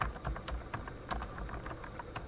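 Computer keyboard typing of a search query, a quick run of soft, close key clicks at an uneven pace, fairly quiet against a faint background hum.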